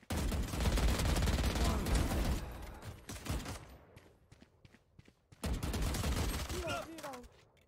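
Valorant gunfire: a long, loud burst of rapid shots, then scattered single cracks and clicks during a quieter stretch, followed by another intense volley.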